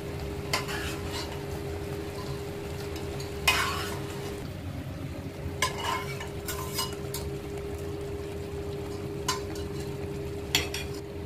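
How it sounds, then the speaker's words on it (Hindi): A spoon stirring dal makhani into cooked masala in a pan, giving soft, steady scraping and stirring over a constant low sizzle, with a few sharper clinks of utensil against the pan. "अब दाल को अच्छे से मसाले में मिक्स करें"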